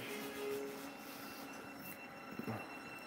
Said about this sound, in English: that was an Azuma train, our newest trains that we have